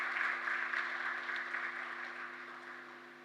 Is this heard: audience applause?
yes